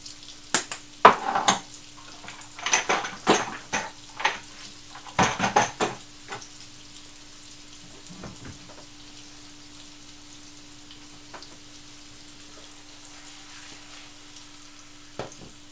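Potatoes frying in a pan over medium heat, seasoned with mixed herbs and paprika, with bursts of sizzling and clattering for the first few seconds before settling into a quiet, low hiss.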